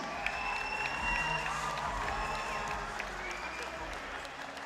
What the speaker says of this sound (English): could I have a big round of applause for both fighters,